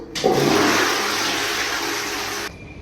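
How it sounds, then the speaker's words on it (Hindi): A toilet in an airport restroom flushes in one loud, close rush of water that holds steady for a couple of seconds and then cuts off sharply. "क्या आप भी ऐसे फ्लश करते हो?"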